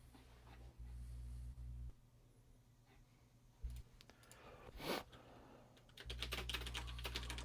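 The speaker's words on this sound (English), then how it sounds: "Sometimes I can hear you typing." Typing on a computer keyboard during an online Q&A call, heard as faint, scattered clicks over a steady low hum, with a couple of brief louder bumps.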